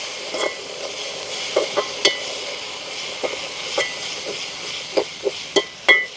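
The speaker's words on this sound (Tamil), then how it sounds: "நாங்கள் அப்படி தணலில் ஒரு நிமிஷம் அப்படியே நாங்கள் கிண்டி விடுவோம்" Food in a pan over a village wood fire is stirred with a spoon, a steady sizzling fry broken by repeated scraping strokes against the pan, close and fairly loud.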